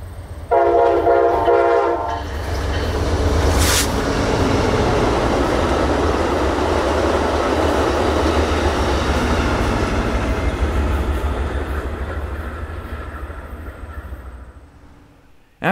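The Borealis passenger train roars past close by in Minnesota, opening with a loud blast of its horn, then a long heavy rumble of wheels and cars that slowly fades away.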